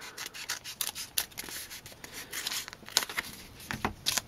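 Scissors snipping through craft material for the base of a Warlord Titan model build, a quiet series of close, irregular cutting and rubbing strokes.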